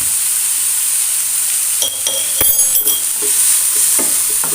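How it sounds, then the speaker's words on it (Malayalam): Turmeric and pepper powder being stirred into a carrot mixture in a pan, with a steady soft sizzle and scattered scraping stir strokes toward the end, close and fairly loud, no talking. "അത് നല്ലോണം ഒന്ന് വട്ടിയെടുക്കാം"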